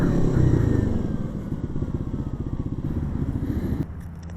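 A Kawasaki KLX 300 motorcycle rides on a highway with a loud, steady engine drone and rapid pulsing firing, heard close up under rushing wind, easing off briefly near the end.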